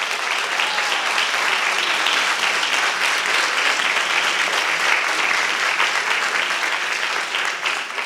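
An audience at a Founders' Day convocation gives a sustained, warm round of applause, dense, even clapping that continues strongly for about eight seconds with no voices on top.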